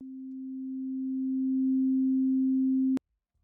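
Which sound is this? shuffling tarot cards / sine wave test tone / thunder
sine wave test tone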